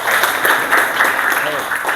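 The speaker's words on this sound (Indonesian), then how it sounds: "Kasih tepuk tangan dulu untuk temannya." Classroom students applauding a classmate, brief steady clapping from a small group of pupils close by in a room.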